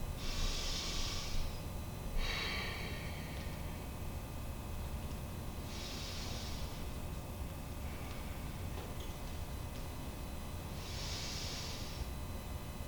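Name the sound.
slow deep breathing during a stretch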